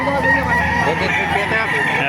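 Rooster crowing at a chicken market in Bocaue, Bulacan, a close, loud, drawn-out call that fills the moment over background market noise.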